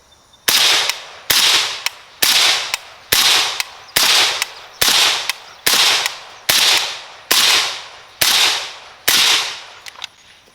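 A suppressed AK74 rifle fires 5.45x39 Red Army Standard ammunition outdoors, with about twelve sharp, evenly spaced shots roughly a second apart. Each loud crack trails off in a short decay.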